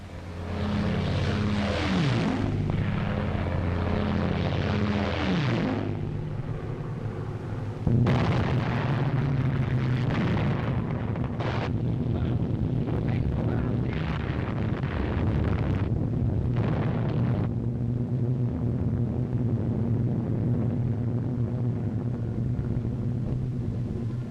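An RAF bombing raid in a wartime film brings the steady roar of propeller aircraft, with heavy explosions breaking in at intervals and the noise shifting as the planes pass. The sound is loud and continuous, and no one speaks.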